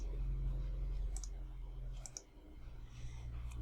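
A computer mouse clicks a few times in quick pairs, faint and close, over a steady low hum during office software work, with no talking.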